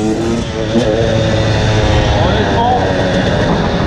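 A Husqvarna 300 TE two-stroke dirt bike pulls away through first and second gear, with a loud close engine rising in pitch, while someone talks over it.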